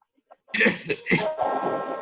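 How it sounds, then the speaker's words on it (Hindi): A student coughs in a class 10 mathematics lecture: a couple of faint clicks, then a few rough, close coughing bursts ending in a drawn-out voiced throat sound. "ये जो फॉर्मेलिटी की खांसी है, ये बेटा ये बंद करो।"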